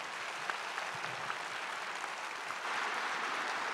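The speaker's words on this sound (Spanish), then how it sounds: "les pido más bien un fuerte aplauso a todos estos ponentes" Audience applause for speakers at an academic panel on digital tools in health education, dense continuous clapping that swells slightly louder toward the end.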